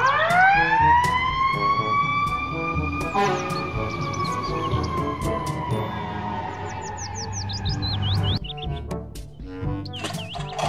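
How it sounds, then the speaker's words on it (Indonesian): Toy fire truck siren wails loudly in a rising, sustained electronic tone, then shifts to rapid chirping yelps near the end, close and continuous. "Mobil truk pemadam kebakaran."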